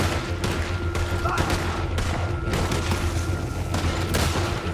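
A video game gunfight, with sharp gunshots and booming bursts cracking out every second or so over a steady low rumble, while voices talk over the action.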